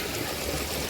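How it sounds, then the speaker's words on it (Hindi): Spring water flows out of the ground at a high mountain river source, a steady, full rushing and gurgling that fills the brief moment without pause. "ये देखिए स्प्रिंग वाटर करके ये पानी यहाँ से ऐसे निकलता है ज़मीन के अंदर से।"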